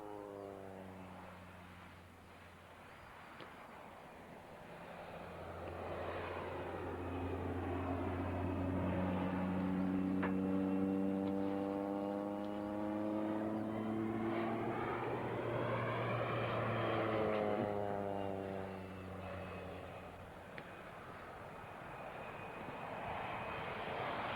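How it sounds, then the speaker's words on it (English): An agricultural aircraft makes a slow pass at an air display, its engine drone swelling and then fading with a clear pitch sweep as it approaches and recedes, heard alone and at a distance. "Very manoeuvrable aircraft."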